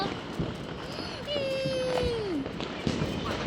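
Diwali firecrackers going off, with a long whistling tone that slides up and then down, plus scattered pops and cracks, heard close under children's voices and chatter.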